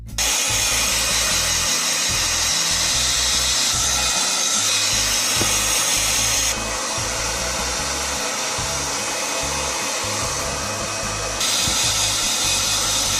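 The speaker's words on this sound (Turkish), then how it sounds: "şimdi hemen saçları kurutmaya başlıyorum" A hair dryer runs steadily close by, drying hair with a loud constant airflow roar that shifts in pitch slightly as the setting or angle changes, with no talking.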